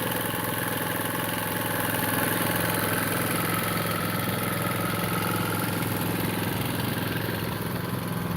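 A John Deere riding lawn mower engine drones steadily and loudly up close while mowing a lawn, a continuous even hum with vibrating texture and no breaks, with no voices over it.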